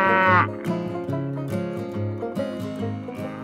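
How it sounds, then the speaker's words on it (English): A cow lows with a long, deep, drawn-out moo that swells and then tapers, followed by a second rising call, heard close and clear with no talking. "don't look at me like I'm just a plain old cow"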